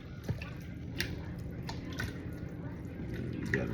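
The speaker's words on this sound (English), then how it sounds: "We're just gonna stir it up, and then I'm gonna pressurize it for." Juice is stirred in a container ahead of pressurizing, giving soft liquid sloshes and faint drip-like clinks over a steady low background hum, close but quiet.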